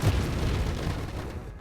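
Explosions from an action video game, a cluster of booming bursts that swell at the start and roll on densely for under two seconds before fading.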